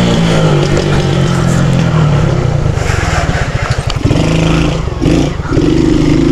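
A car engine revs hard during a drift, a loud, close, throbbing roar that rises and falls in bursts, with no voices over it.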